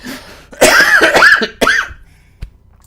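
Two or three short, sharp coughs close by, followed by a brief quiet click.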